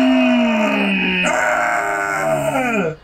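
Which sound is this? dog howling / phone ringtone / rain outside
dog howling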